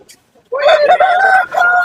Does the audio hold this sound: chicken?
yes